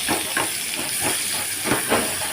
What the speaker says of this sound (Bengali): এর মধ্যে আমি গোটা গরম মশলা ফেলে দেব। দিয়ে দেবো পেঁয়াজ কুচি।